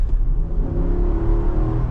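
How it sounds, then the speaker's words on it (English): 2025 Nissan Patrol V8 with a 7-speed transmission accelerating, a loud, steady low engine drone building with instant torque from inside the cabin, with no talk. "I am going to miss this V8 engine because it's just such a good sound, and it's got that instant"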